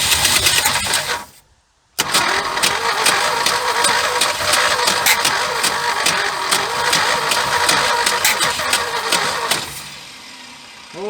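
Engine of a 1976 Ford F150 abandoned for over 30 years, cranking in a short burst, pausing briefly, then cranking again and catching into a rough, loud, close run for several seconds before easing off.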